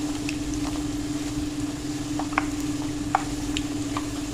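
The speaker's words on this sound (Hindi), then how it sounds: "बस इस तरह इसको चम्मच से हिलाते भी जाएंगे" Puri frying in hot oil gives a steady, loud sizzle with a low bubbling roar, while a spoon stirs and presses it, adding a few faint ticks and clinks.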